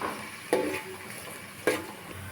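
Cut onions frying in a pan for a village-style chicken masala, with a steady soft sizzle and two brief stirring scrapes, close by.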